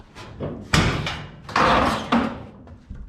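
The trunk lid of a Datsun 1200 coupe with a rusted-out box section is opened, giving several metallic clunks and thuds with a rattling, scraping stretch in between, close and fairly loud.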